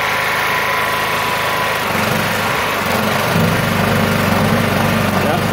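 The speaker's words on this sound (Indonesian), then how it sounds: "Kurang stabil ya gensetnya" A generator engine runs under load while powering a welder at 70 amps, a loud, steady drone whose pitch and strength shift slightly partway through, with no speech.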